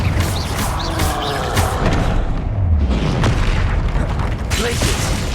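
Confringo fire spell explosions in the Hogwarts Legacy video game, repeated booming bursts over a dense, continuous game soundscape with low rumbles.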